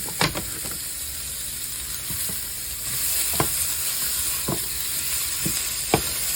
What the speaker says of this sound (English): now I'm going to add my sausage